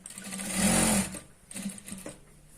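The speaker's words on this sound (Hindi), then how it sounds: "अब हमें इसे यहां से स्टिच करने के लिए हम स्टार्ट कर रहे हैं।" A sewing machine stitches a chudidar pant in short whirring runs, loudest in the first second, then starting and stopping in briefer bursts.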